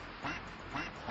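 A duck quacks close by in a short burst of two or three raspy calls, loud and alone with no talking.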